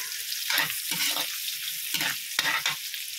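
Pancit with shrimp, mussels, corn and vegetables stirred in a pan: a soft steady sizzle broken by several scraping stirs, nearby and moderately loud, with no voices.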